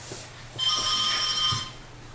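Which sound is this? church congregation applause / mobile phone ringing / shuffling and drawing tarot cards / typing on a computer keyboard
mobile phone ringing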